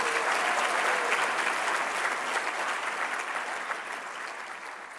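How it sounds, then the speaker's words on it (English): Sustained applause from a crowd at a mayor's State of the City address, steady dense clapping that fades slightly toward the end, with no talking. "So join me in another round of applause for them,"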